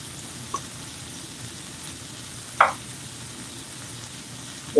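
Sausage and onions fry in a pan, the onions browning: a steady, fairly loud sizzle and crackle throughout, broken by a couple of sharp clinks or pops, with no talk.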